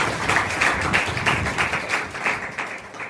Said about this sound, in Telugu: మరొకసారి మనమందరము చప్పట్లు కొట్టి